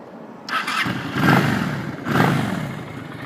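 A 2007 Honda Shadow 600 motorcycle with low mileage and stock setup starts up and runs, engine rising in surges and settling into a close, steady idle with no talk over it.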